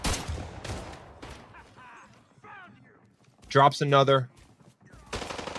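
Gunfire in a gunfight from the tactical shooter Arena Breakout, a burst of rapid shots midway through, with a commentator talking before and after.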